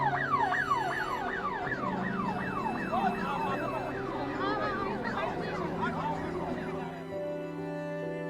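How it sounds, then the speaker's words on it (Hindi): Ambulance sirens wail in rapid rising and falling sweeps, several overlapping, loud and continuous at the scene of a train accident in Odisha, with voices and crowd noise underneath. "सुनाई देंगे तो बस एम्बुलेंस के सायरन।"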